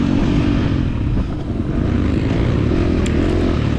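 A 2023 KTM 350 XC-F dirt bike engine drones loud and close out in open grass at a hare scramble race, a steady throaty roar with a brief dip in revs partway through.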